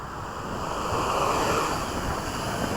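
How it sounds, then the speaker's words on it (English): Wind blows across an outdoor microphone on a very windy day, a continuous rough buffeting roar that swells slightly midway, loud and with no voices. "It's a really windy day."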